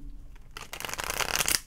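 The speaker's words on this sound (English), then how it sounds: "One more shuffle." Tarot cards are shuffled in a quick riffle, a dense rapid flutter of card edges that builds up over about a second and ends sharply, close and clear with no talk.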